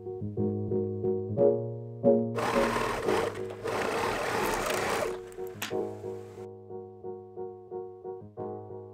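An overlocker or sewing machine stitching ribbing onto a pant hem, a rhythmic pulsing hum that speeds into a louder rattling burst midway, then slows back to a steady chugging run.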